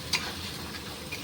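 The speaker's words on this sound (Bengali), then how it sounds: "তো আমি এটা নেড়ে নেবো ভালো করে।" An eggplant curry with crushed tomato sizzles softly in a pan, a continuous low frying hiss with a couple of faint spoon clicks.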